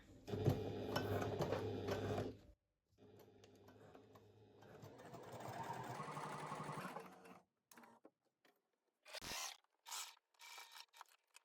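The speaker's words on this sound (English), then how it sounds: "I'm just going to baste with a 1/2 centimetre or 3/16 inch seam allowance, just to hold the layers together." A sewing machine bastes fabric layers for a drawstring pouch with a narrow seam allowance, running in close, fairly quiet bursts of rapid whirring stitches separated by pauses, followed by short rustling and handling noises.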